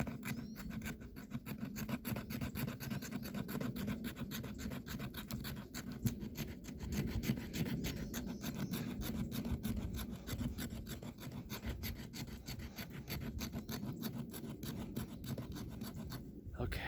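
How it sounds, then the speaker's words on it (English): An Esee Izula knife scraping fatwood into fine shavings for fire starting, a quiet, steady rasping and scratching repeated in quick strokes, close up and low in level. "I will go ahead and make just a few more of those little shavings, make my pile a little bit bigger"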